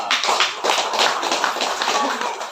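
An audience at a Hindu Kaharingan community gathering bursts into dense, continuous clapping that stays loud and even from start to end.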